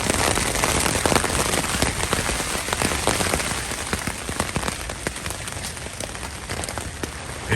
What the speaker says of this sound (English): It's raining outside and windy and cold.